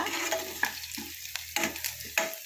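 Onion and green chili sauté in a hot pan, a soft continuous sizzle broken by several scraping stirs of a spatula, close and fairly quiet with no talking.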